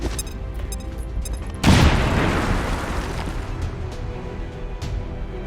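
Grenade explosion in the XCOM 2 game: a sudden loud boom with a long rumbling, crackling tail that slowly dies away, following quieter background ambience.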